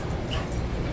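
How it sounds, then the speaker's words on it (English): A dog whimpers and yips in a garage during work on a Vevor MR2051 motorcycle lift, a short, loud, close burst of whining cries. "What are you barking at, Marvin?"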